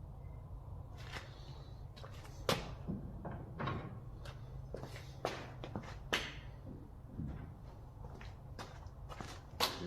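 Clunks and latch knocks from the door of a 1925 Studebaker being opened and closed during restoration work, several irregular knocks and bumps at close range in a workshop, with no talk.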